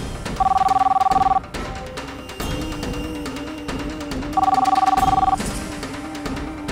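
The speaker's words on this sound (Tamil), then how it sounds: "உங்களுக்கு மணி அடிச்சிட்டாங்க போய் ஃபோன் எடுங்க" A telephone rings in two separate electronic bursts about three seconds apart, over a steady background hum and soft music, in a scene from a Tamil television drama.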